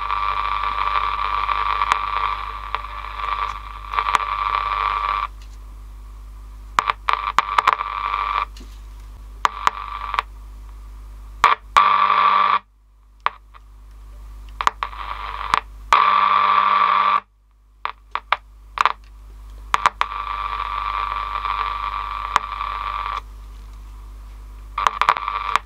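A 1963 AWA B31 transistor radio hums and whines with steady tones, and sharp popping interference from a nearby electric fence cuts through at intervals while the radio signal drops in and out.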